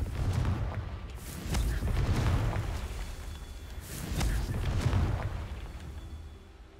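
Repeated Confringo spells go off in Hogwarts Legacy with heavy booming blasts, two or three swelling bursts over a low rumble, and quick sharp cracks as each spell is cast.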